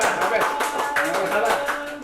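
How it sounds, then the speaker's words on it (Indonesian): Applause from a live audience welcoming candidates for a student association congress, steady dense clapping mixed with voices over a short burst. "Silakan, tepuk tangan."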